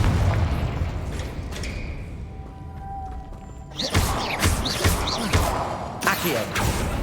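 A booming spell blast in a fantasy wizard video game, a Confringo fire explosion followed by a burst of crackling impacts and rumbling debris, loud and close, with a low game-world hum underneath.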